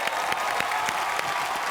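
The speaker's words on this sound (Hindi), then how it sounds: "मनोज तिवारी जी के लिए जोरदार तालियां।" Audience applause for Manoj Tiwari on a comedy show stage, a crowd clapping steadily with a few faint cheers mixed in, lasting under two seconds with no talk.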